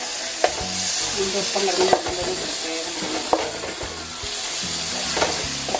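Garlic-ginger paste sautéing in a pan for a homestyle chicken curry, a dense close sizzle with occasional spatula knocks and clatter, and a brief spoken word.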